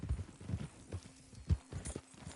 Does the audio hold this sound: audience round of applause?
no